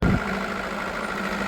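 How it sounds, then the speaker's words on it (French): A farm tractor engine runs steadily at close range, a continuous low rumble with a rougher start and no pauses. "Fait que Sandrine, je lui ai donné l'autorisation de conduire le tracteur."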